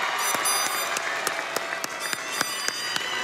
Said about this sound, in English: Receive our applause.